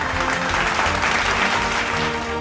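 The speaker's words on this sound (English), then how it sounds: "We can clap for Paula, it's okay" Applause from an audience at a Rotary celebration, convocation and changeover event, a steady dense wash of clapping filling the whole stretch at fairly close range, with no voices over it.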